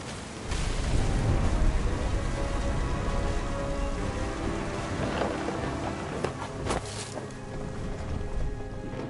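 Heavy rain pours steadily in the video game What Remains of Edith Finch, a dense loud wash with a low thunder rumble underneath and a few sharp crackles late on.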